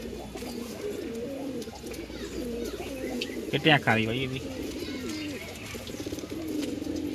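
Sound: pigeons cooing

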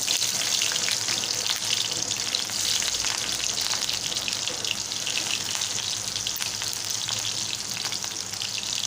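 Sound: chopped onion frying in hot oil

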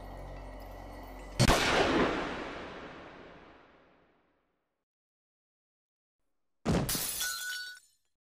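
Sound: gunshot in anime scene

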